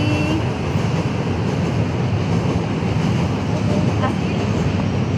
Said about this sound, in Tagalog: Soler, andyan yung MRT. This is the MRT.